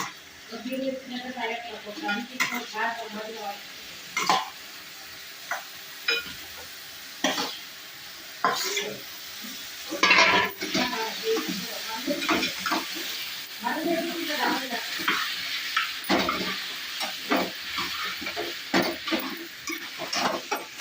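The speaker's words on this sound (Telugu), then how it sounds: "మంచిగా మొత్తం కలగాల్సి కలబెట్టుకోవాలి." Spicy quail curry with turmeric is stirred and fried in a pan, steady sizzling under repeated scraping strokes of the spoon, close and clear, with a person talking over it throughout.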